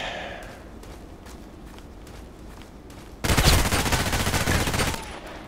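Gunfire in the online shooter Contract Wars, a loud burst of sustained shooting that abruptly swells over quieter game ambience with faint footsteps, then cuts off.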